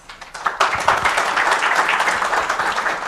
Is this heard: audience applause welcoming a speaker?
yes